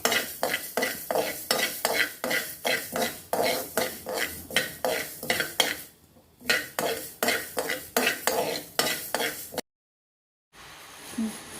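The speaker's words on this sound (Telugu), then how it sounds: "సిమ్లో పెట్టుకొని దూరగా వేయించుకోవాలి." Boneless chicken frying on a low flame for pickle while being stirred: brisk rhythmic scraping strokes of a spoon in the pan over a steady sizzle, close and loud, briefly pausing, then cutting to quiet sizzling.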